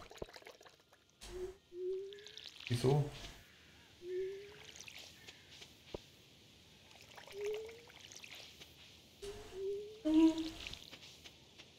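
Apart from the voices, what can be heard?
watering crops in the video game Stardew Valley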